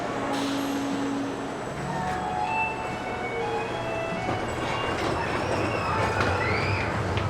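A mine train roller coaster, Thunderation at Silver Dollar City, rumbles and clatters steadily along its track, with metallic squeals and rattling over constant mechanical roar.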